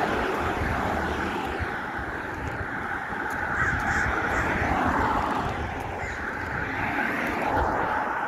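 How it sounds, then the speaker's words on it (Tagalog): Several crows caw repeatedly during a morning walk in Carson City, California, their calls rising over steady outdoor ambience with a faint propeller aircraft droning in the background. "Lupad-lupad, mga uwak"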